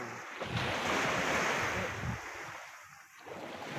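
Ocean waves surging and washing in, rushing and fading in broad swells, with wind buffeting the microphone.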